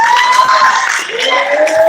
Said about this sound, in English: let's give him a well-deserved round of applause